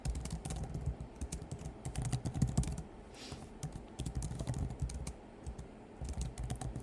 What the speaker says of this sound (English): And sorry if the typing is loud.